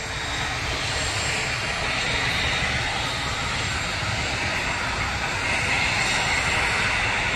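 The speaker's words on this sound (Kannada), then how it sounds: "ನೋಡಿ, ಚೆನ್ನೈ ಫ್ಲೈಟ್ ಅಲ್ಲೇ ನಿಂತಿದೆ ದೂರದಲ್ಲಿ." A parked airliner's aircraft engines at the airport, bound for Chennai, make a steady, loud roar and whine that holds evenly throughout with no talk over it.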